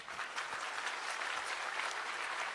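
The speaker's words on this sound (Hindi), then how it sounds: "ताली मत बजाइए" An audience claps steadily during a spiritual discourse in India, a continuous dense patter of many hands at moderate distance, with no voices over it.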